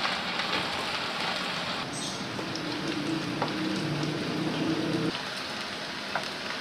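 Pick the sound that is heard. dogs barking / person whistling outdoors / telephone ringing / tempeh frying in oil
tempeh frying in oil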